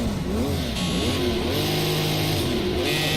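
A Porsche engine in a racing video game, revving up and down through gear changes with a rising and falling harmonic whine, loud and close from start to end with no voices.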